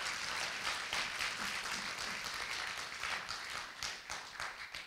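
A church congregation claps together during a sermon, a dense, steady wash of many hands filling the room with scattered louder bursts, continuing without speech throughout.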